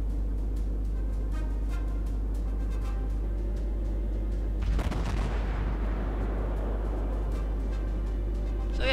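Naval gunfire from a Cleveland cruiser in World of Warships: one heavy, close boom near the middle over a constant low rumble of game ambience, with faint repeated shot reports earlier.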